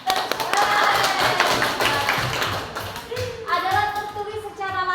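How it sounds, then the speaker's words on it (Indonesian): Students clapping in a classroom during a lesson, a quick burst of hand claps that thins into scattered taps, with voices heard alongside. "Tepuk tangan."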